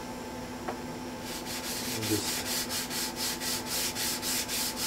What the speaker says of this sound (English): I've got a flat sanding block here that's got 320 on it